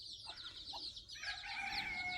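Chickens in a poultry chick-rearing shed give a steady chorus of high cheeping and clucking calls that grows busier and louder partway through, with no talk.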